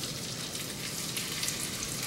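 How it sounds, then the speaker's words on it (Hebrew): Shrimp sizzle in a pan of nearly melted butter, making a steady, even crackling hiss that stays close and constant for the whole moment, with no talking. "אחרי שהחמאה שלנו כמעט נמסה, אנחנו מוסיפים לפה שרימפס,"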